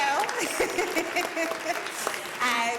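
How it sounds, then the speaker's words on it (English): Conference attendees at a tech event clap for themselves in a lively burst of applause, mixed with voices and some cheering or chatter running underneath the clapping. "Give yourselves a round of applause, please, guys."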